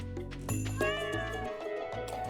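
A cat meows in the video game Stardew Valley, giving a short, clear, close-up meow that rises and falls, heard alone.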